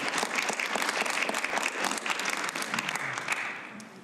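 An audience at a planning and zoning commission public meeting claps after a resident's comment, brisk close applause that stays full for a few seconds and then begins to fade.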